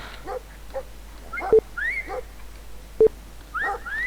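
A dog in the video game Brothers: A Tale of Two Sons gives a series of short yips, whimpers and barks, spaced out with brief sharp sounds between them.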